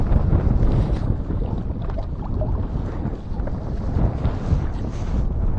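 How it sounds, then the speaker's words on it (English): Strong wind at Southfield Reservoir during match fishing roars continuously into the microphone, a loud, low, buffeting rush with no pauses. "the wind is wild right now"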